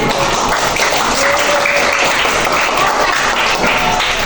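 Loud, close applause from a room of participants at a media literacy outreach session, a dense, steady roar of clapping throughout with a few voices mixed in.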